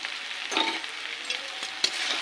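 Dried fish and eggs frying in a chilli curry in a pan, with a moderate steady sizzle broken by a few scraping stir strokes, close and without talk.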